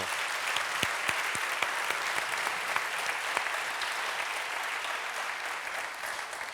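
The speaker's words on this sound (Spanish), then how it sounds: "un aplauso para Santiago Díaz, que ayer intervino." An audience at a literary event in Valladolid breaks into sustained applause, dense clapping with a few sharp individual claps standing out near the start, continuing evenly throughout without speech.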